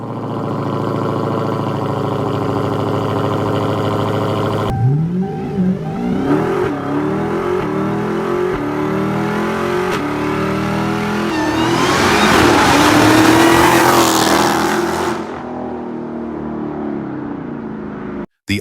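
Supercharged Dodge Challenger SRT Demon engine idling with a loud, lumpy rumble, then revving hard through rising and falling sweeps with a climbing supercharger whine before cutting off sharply near the end.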